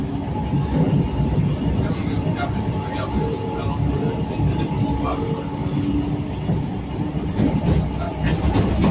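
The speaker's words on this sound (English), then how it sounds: "A tram ride on Blackpool Tram Standard 147. We're leaving Blackpool North pier." Blackpool standard tram number 147 pulls away from the North Pier stop, a steady rumble and rolling rail noise heard from on board, with voices talking over it throughout.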